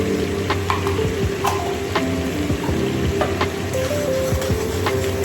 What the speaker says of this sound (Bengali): যে তেলটা অবশিষ্ট রয়েছে সেই তেলের মধ্যে দেব কালো জিরে ফোড়ন